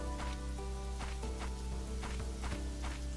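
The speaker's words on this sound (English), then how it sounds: "Always a little tough to tell in the rain." Steady rainfall in the cooking role-playing video game ChefRPG, a constant patter of drops on surfaces under a looping musical score with soft footsteps, no talk.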